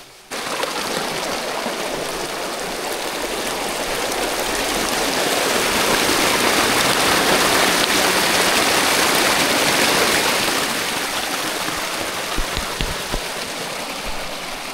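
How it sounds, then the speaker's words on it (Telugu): A mountain stream in Leh, Ladakh flows steadily and close by, a dense unbroken rush of water with a few splashes near the end and no talk. "చూసారా గైస్ వాటర్ ఫ్లో ఎంత బాగుందో"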